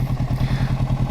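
Close motorcycle engine running steadily while being ridden, a low rhythmic thudding pulse that repeats evenly throughout with no voices.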